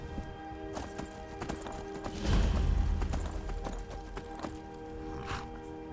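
Horse hooves clip-clop steadily in Skyrim, a galloping rhythm of close hoofbeats with a louder heavy burst midway, over a constant game background hum.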